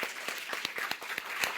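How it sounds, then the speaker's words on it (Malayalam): Audience clapping in quick, rhythmic, evenly spaced claps that stay fairly soft and steady, with no voices over them. "Clap please."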